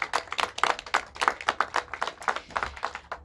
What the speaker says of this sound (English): So I'd like to give them a round of applause and thank them for all of their hard work.